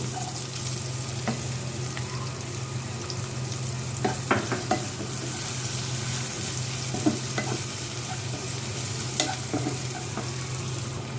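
Carrots sauté lightly in a pan with a steady soft sizzle, punctuated by occasional clicks and scrapes of stirring, close and continuous.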